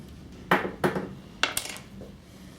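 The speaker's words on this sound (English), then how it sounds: "So we'll just snip a two-way" A pair of snippers cuts a two-way pin header, giving a few sharp clicks and snaps that come close and fairly crisp, with a softer click near the end.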